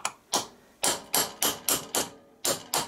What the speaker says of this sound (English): I'm just using a small sharp chisel and try to see if I can make a